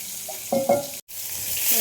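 Water poured into a hot pan of mustard-poppy paste with chilli, a sharp close burst of sizzling and stirring clatter, then a brief cut and a renewed steady hiss.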